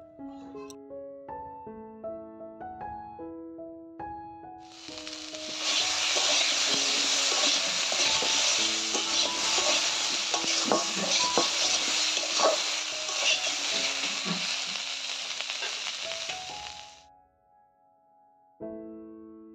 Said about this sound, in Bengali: তো এখন এই সব কিছু একটু ভেজে নেব।